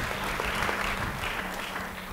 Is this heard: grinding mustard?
no